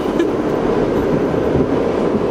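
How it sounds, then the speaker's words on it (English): Loud, steady rumble of a New York subway train in motion, heard from inside the car with rattling wheels and no speech. "first time on the subway in New York"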